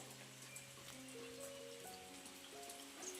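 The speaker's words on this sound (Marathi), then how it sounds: "आता पाऊस बारीक बारीक ना चालू झालेला आहे" Light rain falls steadily and softly, a fine continuous patter close by, with a faint tonal hum in the background and no one speaking.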